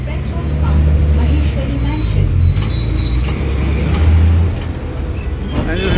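Interior of a BEST city bus in Mumbai in December 2019: loud, constant engine rumble with rattles and creaks while someone talks over the noise.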